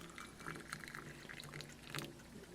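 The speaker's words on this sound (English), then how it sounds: "All right, we'll pour some water." Boiling water poured steadily from a kettle or pot into a container for a meat thermometer test, a continuous close splashing pour lasting a few seconds with no talk.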